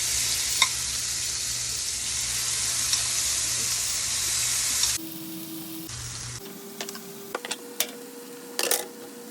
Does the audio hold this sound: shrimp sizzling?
yes